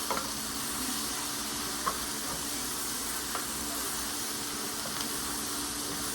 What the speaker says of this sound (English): let me stir this up over here